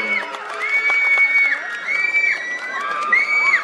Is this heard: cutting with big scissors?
no